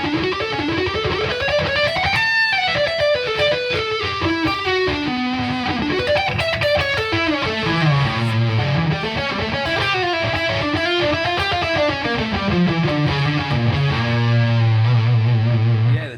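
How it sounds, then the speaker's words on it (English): Heavily distorted electric guitar through a high-gain ENGL amp turned all the way up plays a saturated, buzzing melodic line, loud and continuous, with a sustained low note ringing at the end. "There's lots and lots of distortion."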